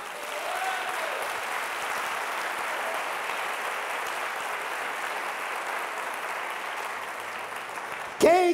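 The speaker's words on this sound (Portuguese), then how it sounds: "Se eu fosse você, aplaudir o nosso Deus." A church congregation applauds during a Sunday sermon, a dense, sustained wash of clapping that holds steady throughout, ending in a brief burst of louder sound.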